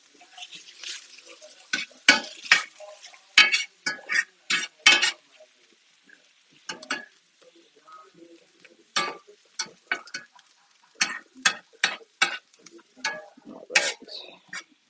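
Onions and beef cooking in a pan for a chopped cheese sandwich, with bursts of scraping and stirring clatter and light sizzle at close range, broken by gaps and a brief spoken remark.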